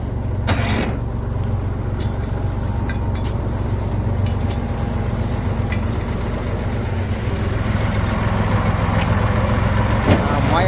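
A tractor engine runs steadily at a low idle-like drone, loud and close, with faint voices in the background while it circles a field for cattle fodder.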